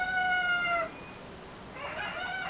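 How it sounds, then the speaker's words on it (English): Cuckoo birds from Zelda: Tears of the Kingdom clucking and crowing in a short burst, fading briefly and then returning, alone with no talk. "I've been training cuckoos to swoop on any rapscallions who try to mess with the trees."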